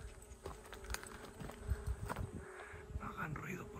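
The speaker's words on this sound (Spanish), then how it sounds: "Ahí están las abejas." Bees buzzing near ruins and old mines in a dry Western landscape, a faint steady drone with scattered footsteps and rustling close by and voices talking nearby.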